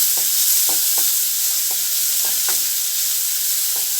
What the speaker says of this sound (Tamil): பூண்டையும் நம்ம அது கூடவே சேர்த்துக்கிடுவோம் சேர்த்துட்டு நல்லா வதக்கிக்கலாம்